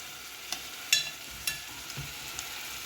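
Pomfret fish sizzling in a pan of oil, with sparse, close crackles and a few sharper pops scattered over a quiet frying hiss.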